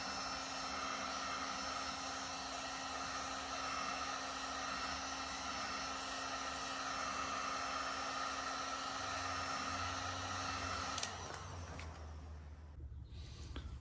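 Heat gun warming a car apron on a 2022 Honda Accord 2.0T, a loud steady blowing roar with a high whine that cuts off near the end, leaving a lower hum and rustling.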